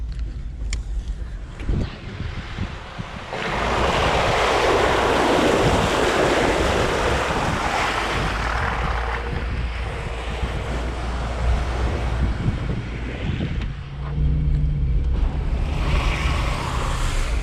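A loud, sustained rush of churning, splashing water swells over a rumbling engine as a lifted Jeep Wrangler JL Rubicon Unlimited drives through water at Silver Lake Sand Dunes, Michigan, lasting several seconds before settling back to a lower roar.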